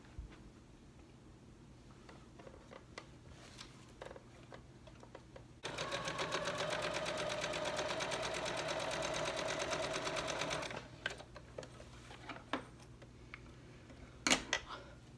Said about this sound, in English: we will hem the bottom of the apron